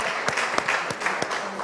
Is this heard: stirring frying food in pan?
no